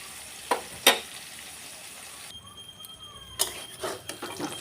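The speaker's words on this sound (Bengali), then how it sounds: "এই দেখো ভাজা হয়ে গেছে" Ash gourd pieces fry in a pan with a soft steady sizzle, broken by a few sharp clinks and scrapes of stirring, close and moderately quiet with no talking.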